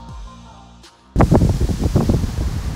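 Broadband wind gusts sweep across the microphone after a quieter stretch, rustling and buffeting loudly in uneven bursts.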